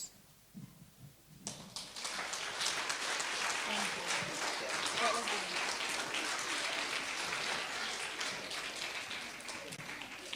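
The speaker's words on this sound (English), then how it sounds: "Let's give the kindergartners one more round of applause" A school audience at a creative art and science fair bursts into applause for kindergartners after a brief quiet start, the dense clapping swelling quickly and holding steady, with scattered voices beneath.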